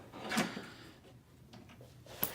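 A drawer in a woodshop cabinet slides open on its runners, giving two brief, quiet knocks from close by, one early and one at the end, with stillness between.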